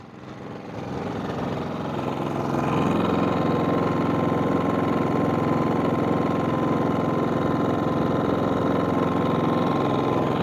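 A GENMAX GM6000ied dual fuel inverter generator runs while warming up, its engine rising over the first couple of seconds into a steady, loud, close idling drone with a buzzing vibration and no speech.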